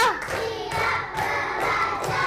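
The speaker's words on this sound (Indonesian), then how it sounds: "coba anak-anak kita tepuk semangat dulu" Children in a classroom clap together in a rhythmic clapping game, several groups of sharp claps in uneven bursts, fairly close, with little talking.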